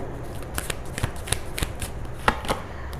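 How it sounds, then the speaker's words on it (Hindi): Tarot cards are shuffled and drawn at close range, giving a series of quick, crisp riffling slaps and snaps spread irregularly over a few seconds, with no talking. "कुछ और कार्ड्स निकालते हैं"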